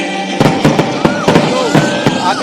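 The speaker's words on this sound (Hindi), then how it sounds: "लगातार ये जो आतिशबाजी है राजधानी जयपुर में हो रही है" Fireworks show over Jaipur for the Makar Sankranti festival, a rapid run of loud, sharp bangs and crackles about every quarter second, with whistling rockets trailing between the bursts.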